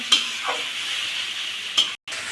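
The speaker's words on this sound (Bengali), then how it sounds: "মশলাটা সুন্দর করে কষিয়ে নেব" Spice masala sautéing with a little water in a pan for a chicken-scrap curry, a steady close hiss with a few sharp stirring scrapes, one near the start and one near the end, then a brief break.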